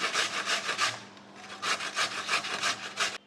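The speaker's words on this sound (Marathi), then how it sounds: "गाजर हे मोठ्या ज्या छिद्रांच्याच किसणीने किसायचे" Carrots grated on a large-hole grater for carrot halwa, rapid rhythmic rasping strokes in two bursts separated by a short pause, close and loud with no talking.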